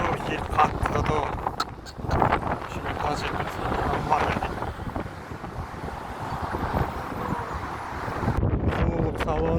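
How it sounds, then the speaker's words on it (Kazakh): Strong outdoor wind gusts buffeting the microphone in a residential neighbourhood, a steady rumbling roar running the whole time beneath a person talking. "Жел қатты да то."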